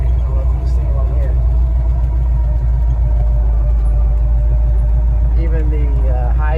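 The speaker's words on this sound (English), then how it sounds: "Driving the Firebird at night." A 1968 Pontiac Firebird drives at night, its engine a steady deep rumble heard close from inside the car, with a voice talking over it at times.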